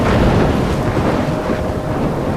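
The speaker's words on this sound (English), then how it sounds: "I'm trapped in a storm?" A thunderstorm in the video game Life Is Strange, with a loud, continuous roar of rumbling thunder, wind and rain that fills the clip without letting up.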